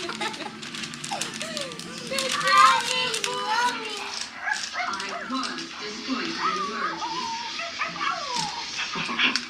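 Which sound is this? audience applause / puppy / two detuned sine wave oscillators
puppy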